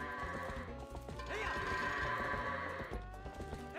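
Goats bleating and braying in a herd in the video game Zelda: Twilight Princess, with overlapping animal cries and hoof clatter over a continuous busy game backdrop.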